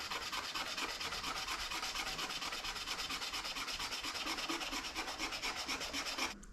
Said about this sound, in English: been sanding my little heart out for ages